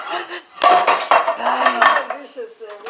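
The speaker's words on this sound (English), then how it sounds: "Why don't you do dishes to save energy?" Dishes and cutlery clatter and clink during dishwashing, a busy, steady rattle of plates, pots and silverware lasting the whole stretch, close and fairly loud.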